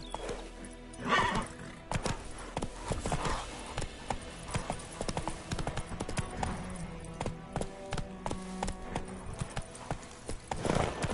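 Hooves of the horse Roach clip-clop at a steady galloping rhythm in The Witcher 3, with game ambience and no speech.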